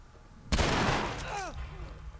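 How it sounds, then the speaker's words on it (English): A sudden loud burst of military turret fire in The Last of Us video game, a harsh crackling blast lasting about a second, then fading with a ringing whine and trailing echoes. "What are they shooting at us with? Some kind of military turret."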